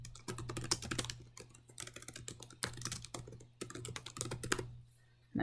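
Computer keyboard typing an announcement title in Blackboard: rapid close key clatter in bursts with short pauses, fairly loud over a low steady hum.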